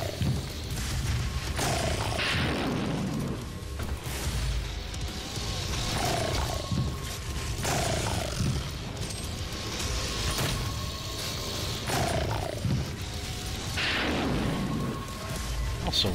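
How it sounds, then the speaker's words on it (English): A super shotgun fires in DOOM SnapMap, heavy booming blasts repeating about every two seconds over a rumbling, mechanical game soundscape. "Alright then, super shotgun it is."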